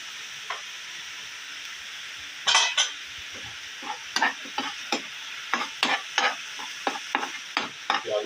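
Onions browning in oil for a yogurt eggplant dish give a low, steady sizzle, broken by a run of sharp, rhythmic spoon scrapes against the pan that grow more frequent.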